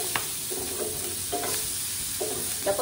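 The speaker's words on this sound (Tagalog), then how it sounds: "Green beans. Sinutay ko na lang sa butter." Green beans sizzle softly in butter in a pan, with a steady frying crackle and occasional stirring scrapes, close and alone.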